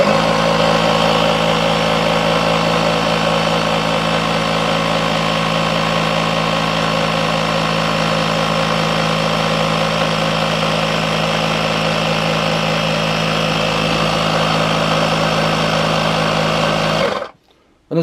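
Electric water pump pressurising a caravan's water system to 12 psi with taps and drain-down closed, a steady continuous motor hum and whine running close and loud for about seventeen seconds before cutting off abruptly.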